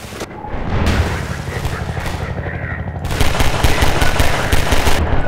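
Rapid automatic gunfire in the Half-Life 2: Episode Two video game, a steady stream of close, loud shots that grows denser and louder in the last couple of seconds.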